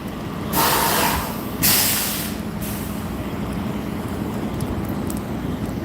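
A truck in a parking lot lets out two sharp, loud air-brake hisses over a steady low rumble, which keeps going alone once the hissing stops.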